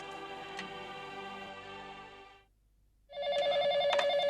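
A telephone rings after a number is dialled, its warbling bell trilling steadily and loudly, stopping for a brief silent gap, then ringing again just as loud.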